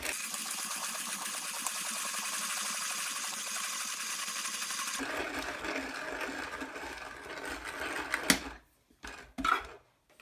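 A vintage 1930s Leinbrock's Ideal 1200 coffee grinder grinds coffee beans with a steady close mechanical whir for about five seconds, then rougher grinding noise and a few sharp knocks.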